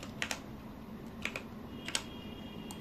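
Typing on a computer keyboard, a few soft, sparse key taps in small clusters, close and quiet against a faint background hum.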